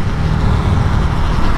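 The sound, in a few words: vehicle passing from behind on the road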